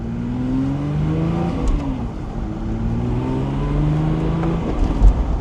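A Porsche Speedster engine revs up and down through several rising sweeps, gears shifting between pulls, loud and close with no talking.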